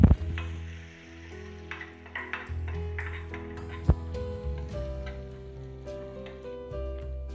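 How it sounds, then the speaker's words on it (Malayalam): Garlic sautéing in ghee left over from frying prawns, with a steady sizzle and scattered spoon clinks and scraping in the pan, one sharp clank near the middle. "ചെമ്മീൻ ഫ്രൈ ചെയ്തെടുത്ത നെയ്യിലേക്ക് 1/2 ടീസ്പൂൺ വെളുത്തുള്ളി ചേർത്ത് കൊടുക്കാം"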